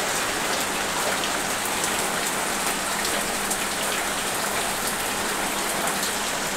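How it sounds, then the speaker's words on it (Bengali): Steady, dense rain falls onto surfaces close by at a constant loud level, a continuous hiss of drops without thunder or voices. "আর এই যে বৃষ্টি শুরু।"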